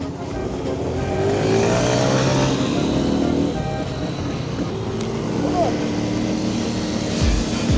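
A car engine revs steadily over a broad rumble of traffic and outdoor noise, with people talking nearby.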